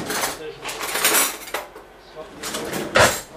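Fork clinking and scraping against a bowl while eggs are whisked for Yorkshire pudding batter, a close run of quick, irregular metallic taps and scrapes.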